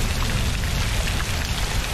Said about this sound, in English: Is it raining blood?